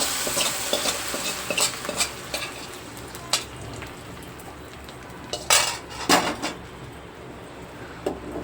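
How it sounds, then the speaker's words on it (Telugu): A spoon stirs semiya payasam with dry fruits in a pot, making close metallic scrapes and clinks at an irregular pace over a faint background hiss. "ఒకసారి ఇలా మొత్తం కలిసేలా కలిపేసుకోవాలి మనం వేసిన డ్రై ఫ్రూట్స్ అన్నీ ఈ పాయసంలో బాగా కలిసేలా కలిపేసేసుకుని"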